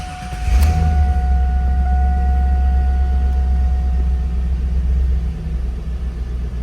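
A 2001 Chevrolet Camaro Z/28 engine fires up with a sharp start and settles into a steady, loud, deep rumbling idle close by.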